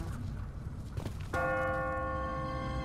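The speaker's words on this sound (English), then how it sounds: "No one's ringing that bell. It's automatic. On a timer. What kind of church bell goes off at 20 past the hour?" An automatic church bell on a timer in The Walking Dead game strikes once with a loud, ringing clang that hangs and decays after a stretch of muffled ambience, with no voices.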